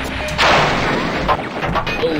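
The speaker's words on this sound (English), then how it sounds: "That was my cluster bomb going off." A cluster bomb explodes in the Fighters Anthology flight-combat game, breaking out as a broad rumbling blast that swells quickly and then rolls on with scattered crackling bursts.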